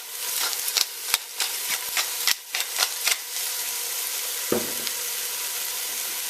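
Fish soup ingredients sizzle hard in a pot while a spoon stirs them, giving a steady bright frying hiss broken by quick scrapes and clacks of the utensil, close up, with no talking.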